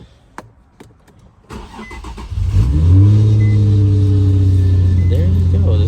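A car with a brand new battery cranks and starts, a few faint clicks and a short whirring crank before the engine catches, rises in a rev and settles into a loud, steady idle nearby.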